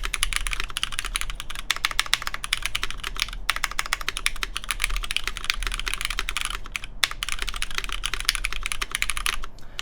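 Rapid continuous typing on an OTD 356CL mechanical keyboard, dense crisp clacks in a fast uneven rhythm, close and alone, with brief pauses.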